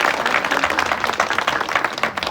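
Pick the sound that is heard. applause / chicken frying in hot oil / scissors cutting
applause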